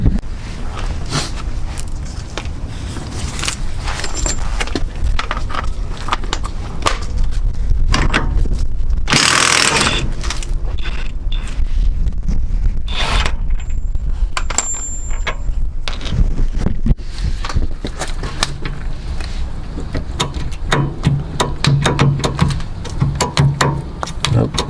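An impact gun works on the rear hub of a 2004–2007 Honda Accord during a rear wheel bearing replacement. Loud, harsh hammering bursts rise over steady rattling mechanical noise close by, with the strongest bursts coming in the middle.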